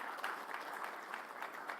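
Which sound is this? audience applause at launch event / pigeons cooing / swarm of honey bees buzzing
audience applause at launch event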